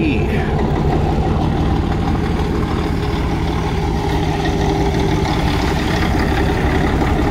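A large diesel tractor engine idles steadily and loud throughout at a plow day, a constant low rumble with a faint voice talking over it.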